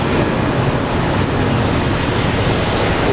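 A Jetstar jet departing Brisbane Airport makes a dense, continuous engine roar, loud and even throughout with no pauses.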